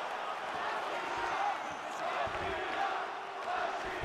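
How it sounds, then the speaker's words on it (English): A loud, vocal crowd roars and cheers around a fight, an MMA bout with Weidman, a continuous swelling arena noise under an announcer's commentary. "Very vocal crowd today, Joe."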